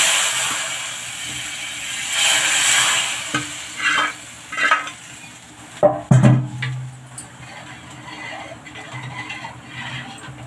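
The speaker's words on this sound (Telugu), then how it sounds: "ఈ తాలింపుని దీంట్లో వేసేసాను." Hot tempering poured into tomato rasam on a switched-off stove gives a sharp, loud sizzle burst that settles into a steady crackling hiss, after earlier stirring and frying sounds; no one speaks.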